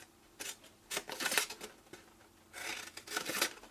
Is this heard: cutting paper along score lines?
yes